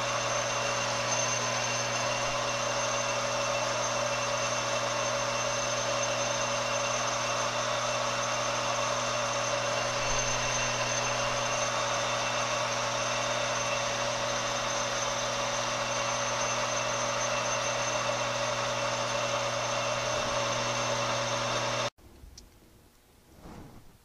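Metal lathe cutting steel with an insert, a steady loud droning hum with whining overtones sustained without change for a long stretch, then stopping abruptly near the end.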